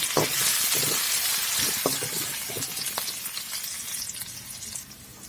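Onions hitting hot oil in a heated wok, a dense, bright sizzle that starts strong and gradually settles, with occasional soft stirring knocks, close by.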